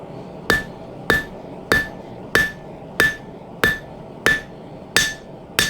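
A hammer strikes hot steel on an anvil while a knife tang is tapered, nine evenly spaced sharp ringing blows at about one per second, close and clear with short metallic decays.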